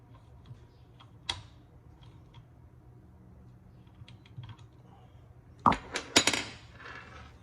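A ratchet used while fitting air line hose fittings on a slave valve and filter regulator: faint scattered ticks, then a quick cluster of sharp, close clicks near the end.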